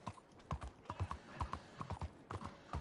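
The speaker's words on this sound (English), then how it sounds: "just two guys riding on a horse" Horse hooves clip-clop at a steady trotting rhythm while riding in Red Dead Online, a clear repeated series of hoof strikes with faint background voices beneath.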